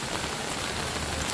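Steady rain falls on surfaces, a close, continuous patter of drops with no pauses and no voices.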